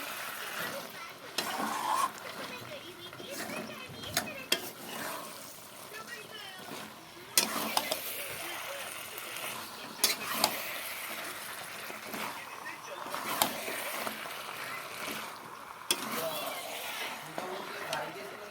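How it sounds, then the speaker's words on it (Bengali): Chicken and potato pieces are stirred and sautéed in a hot pan, giving a soft continuous sizzle with scraping strokes and a few sharp utensil knocks, a voice talking over it. "এখন আবার কিছু সময় নাড়াচাড়া করব পুরোটা কষিয়ে নেব"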